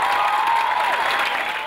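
A crowd at a dance festival in Maranhão gives loud, dense applause that holds steady and sounds close throughout the brief clip.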